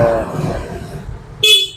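A Yamaha Fino scooter's horn gives one short, bright beep near the end, after a stretch of low engine and shop noise while a voice speaks.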